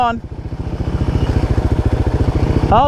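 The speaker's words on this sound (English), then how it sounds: "Keep it going, don't let the muffler stop, it's underwater." A Royal Enfield Himalayan 450 or CFMOTO 450 MT motorcycle runs with its muffler submerged, giving a loud, steady burbling pulse of rapid exhaust thumps and bubbling, held for nearly three seconds before fading out.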